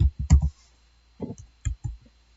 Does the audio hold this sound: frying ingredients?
no